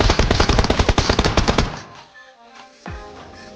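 Rapid automatic gunfire from PUBG Mobile, loud and close, a fast volley of shots for well over a second, then quieter game ambience and a single heavy thump near the end.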